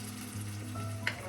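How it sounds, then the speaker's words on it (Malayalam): Chopped tomato sautéing with garlic in a hot pan for a coconut fish head curry, a steady close sizzle with a brief stirring scrape near the end. "ഈ സമയം നമുക്ക് തക്കാളി കൂടെ ചേർക്കാം. അത് ഇതോടൊപ്പം വഴറ്റാം."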